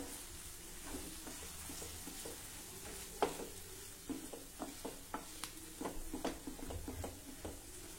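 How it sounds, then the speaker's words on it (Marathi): Ground chana dal stirred in hot oil in a pan: a soft, constant sizzle with scattered scraping and clinking stirs that grow busier toward the end, quiet and close, no talking. "आता यामध्ये ही वाटलेली डाळ घालू। डाळ व्यवस्थित मिक्स करून घेऊया।"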